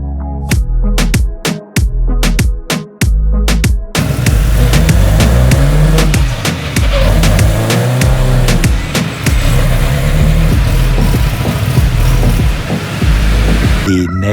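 A car fitted with a new Precision turbo runs on a dyno, first with a few sharp bangs, then a loud sustained engine roar whose pitch sweeps up and down over several pulls, close and continuous.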